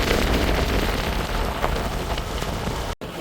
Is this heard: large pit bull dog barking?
no